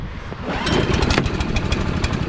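A Predator 212cc engine swapped onto a single-stage snow blower, pull-started, catches on the first pull and settles into a loud, close, rapid-firing small-engine chatter.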